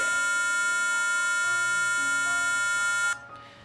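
A steady electronic buzzer tone from an Arduino piano circuit holds loud and unbroken for about three seconds, then cuts off abruptly, leaving a faint room hiss.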